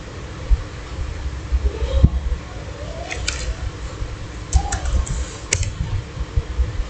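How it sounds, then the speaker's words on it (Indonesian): Someone types a sudo password on a computer keyboard while setting up networking on a Linux virtual machine, giving sparse, irregular key clicks with a few sharper taps, close and fairly quiet. "kita masukkan password sudo"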